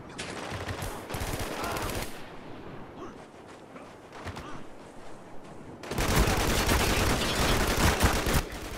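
Video game gunfire in Spec Ops: The Line multiplayer, bursts of machine-gun fire and heavy shots that come and go, dropping to quieter stretches before a loud, sustained barrage at the end.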